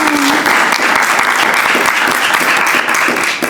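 A live studio audience applauds steadily for several seconds, a dense, even burst of clapping close by that holds at full strength before easing slightly at the end.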